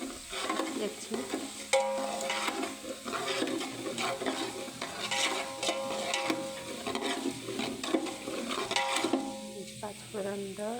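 Panch phoron and fennel seeds frying in hot oil while being stirred, a moderate sizzle with frequent scraping strokes and clinks throughout.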